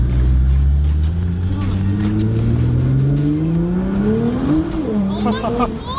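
A Nissan R35 GTR on a 610 horsepower power map accelerates hard from inside the cabin, engine pitch climbing steadily through the revs before a sharp shift and more revving, with people talking over it.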